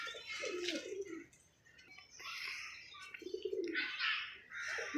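Pigeons kept by a fancier coo in repeated low throaty phrases at close range, with faint chirps and higher bird calls mixed around them and no talking.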